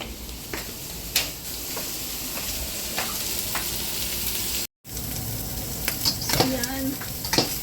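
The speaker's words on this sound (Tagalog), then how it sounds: "Maganda na yung pagkakagisa niya." Bitter gourd and chicken liver sizzle steadily in a hot pan while being stirred, with scraping utensil clicks and a brief dropout, no talk.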